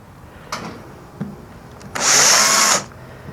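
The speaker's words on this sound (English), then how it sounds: "Get a little wild with the drill there." A power drill bores into a plastic gas can, a couple of brief ticks and taps first, then a loud, steady high whine of the drill biting for under a second.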